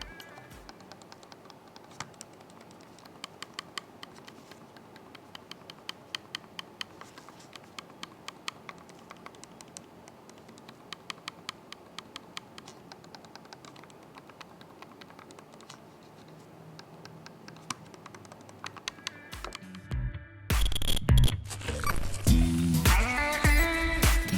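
Steady series of light, crisp clicks from an EZREN M333 wireless computer mouse, repeated irregularly for a long stretch, before louder music cuts in near the end.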